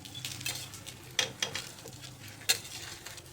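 Rice dhapate flipped on a pan over medium flame, a soft quiet sizzle running throughout with a few sharp clinks of a spatula against the pan.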